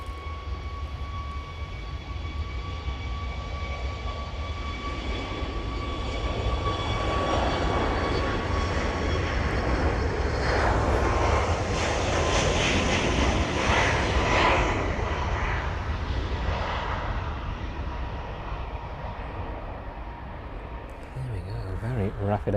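An airliner taxis rapidly at East Midlands Airport before departing for Heraklion, its jet engines whining steadily with a broad roar that swells in the middle and eases off, while a voice speaks over it.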